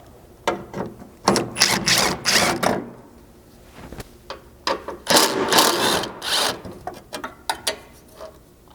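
A ratchet working 10mm bolts off the corner braces of a Toyota Tundra's rear bumper, with rapid bursts of clicking pawl sounds in two main runs, close up, separated by brief pauses and small metallic handling noises.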